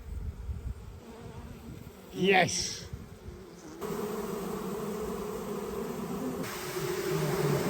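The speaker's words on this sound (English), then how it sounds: "I'm sure I could hear bees in there." Honeybees stream out of an old 120-year-old chimney, a soft continuous buzzing hum that swells louder partway through, with a brief spoken word and a rising whoosh over the insect drone.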